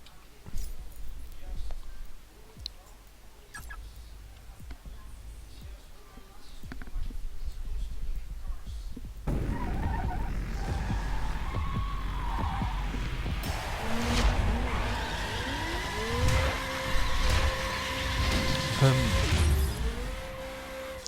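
A Mazda Miata drifts in the racing game The Crew, its engine rising and falling while the tires squeal in long, bending tones. It starts quieter, then grows loud and busy from about the midpoint, and a voice talks at times.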